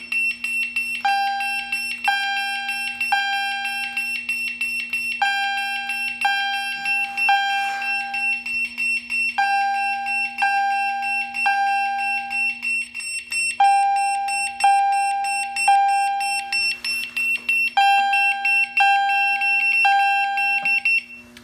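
A home fire alarm system sounding after a BG12L pull station is pulled: a steady high electronic tone with repeating two-note horn-like beeps in regular bursts, loud and continuous for the whole stretch, with no talking.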